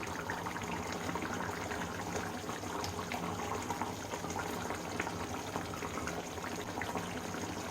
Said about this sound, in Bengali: আমার মাছ ফুটে গেছে